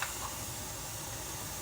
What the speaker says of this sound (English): This vent pipe has been shooting steam for 10 minutes.